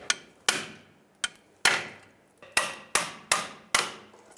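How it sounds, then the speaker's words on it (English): A hammer strikes a long metal pry bar about nine times in uneven rhythm to knock off a bellows boot clamp on a 2003-2009 Toyota 4Runner, each sharp, ringing clank decaying quickly; close and loud with no talking. "I'm going to use a hammer with a long pry bar and basically just knock it off of there"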